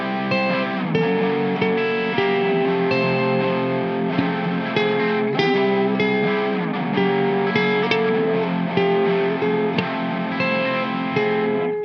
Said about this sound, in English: put your favourite distortion pedal on, you're going to play this